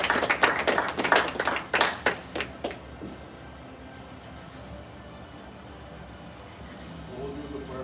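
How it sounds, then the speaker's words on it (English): A group claps loudly in a burst of applause for new black belts at a martial arts graduation, the clapping dying away after about three seconds into a quiet room. "Give a round of applause."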